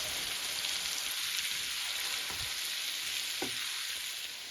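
Zucchini and onions sizzle steadily in a hot pan, a continuous close crackling hiss with a couple of soft stirring knocks and no talking.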